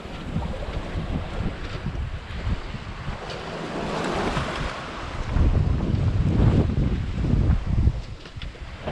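Strong wind of about 15 to 20 knots with gusts roars over ocean waves aboard a small Contessa 26 sailboat crossing the Atlantic solo, a continuous loud rushing with swelling surges of surf and wind buffeting the microphone.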